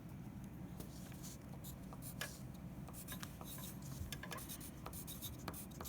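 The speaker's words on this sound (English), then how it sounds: "I'm going to write Leaf. And then I'll copy Trouble." Pen or pencil writing on paper during a children's book read-aloud, a steady faint scratching that runs throughout with small irregular strokes, close and quiet with no talking.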